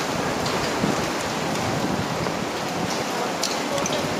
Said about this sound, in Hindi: आज देख सकते इतना अंधी तूफान है